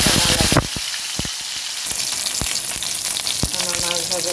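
Fish pieces fry in a kadai of hot oil with a loud, continuous sizzle, scattered pops and sharp crackles breaking through the hiss throughout.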